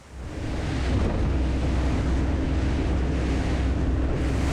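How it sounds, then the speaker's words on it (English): Rough sea with short, steep waves whipped up by a fresh wind, heard from aboard a twin 600 HP Verado Pirelli P50 rib: constant loud wind buffeting and surging water noise, steady throughout with no talk. "Today the sea is rough, there is wind, but the waves are not very high."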